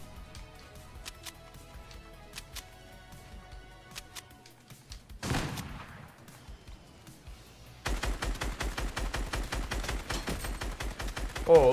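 Lever-action shotgun fire during a video game firefight: scattered distant shots, a loud blast with a fading tail, then a steady rapid volley of sharp reports, with faint talk underneath.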